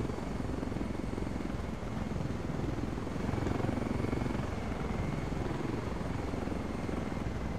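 A helicopter from the Ghost Recon Wildlands video game drones with a steady rotor thrum and engine whine throughout, fairly even in loudness, with no talking.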